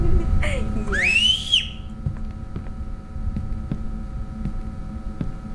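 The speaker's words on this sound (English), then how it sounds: "It's a whistle." A shrill whistle blows once near the start, a rising then sliding screech, followed by quieter rhythmic ticking and a low hum for the rest.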